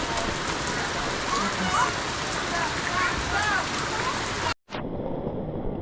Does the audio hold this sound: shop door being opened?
no